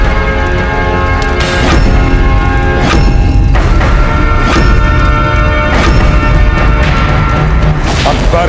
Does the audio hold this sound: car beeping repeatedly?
no